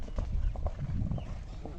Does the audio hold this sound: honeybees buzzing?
no